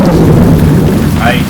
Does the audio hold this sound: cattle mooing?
no